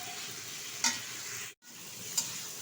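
Spice masala sautéing in a pan for rohu fish curry with ridge gourd and potato, a soft steady sizzle with two sharp scrape-clinks of the stirring spoon and a brief dropout.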